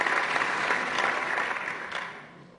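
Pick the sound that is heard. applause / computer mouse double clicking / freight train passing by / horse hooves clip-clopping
applause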